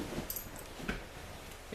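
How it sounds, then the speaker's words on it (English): A dog named Daisy makes soft whimpering and low grumbling noises inside a car, close but fairly quiet over a steady background hum, with a faint high squeak near the start. "So, ooh, Daisy, no growling."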